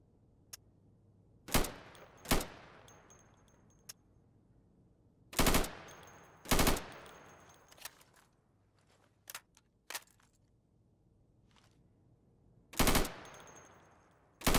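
Rifle fire at plywood targets on a training range in the game Insurgency, with loud sharp reports, some single and some in quick pairs, spaced out by short pauses and decaying echoes, plus faint mechanical clicks in between.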